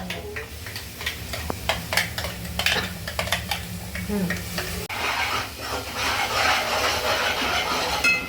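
Ground spice paste with mutton masala is sautéed in a pan, sizzling steadily while a spoon scrapes and clinks against the metal in quick, irregular strokes, the frying growing louder and denser toward the end.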